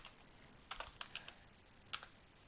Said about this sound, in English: So in the character, I'm going to type in